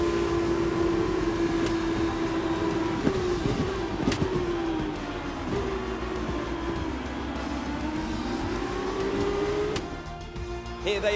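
Formula 1 race cars in F1 2021 rolling slowly into parc fermé, engines droning and shifting pitch at low speed, with a steady mechanical hum and occasional clicks.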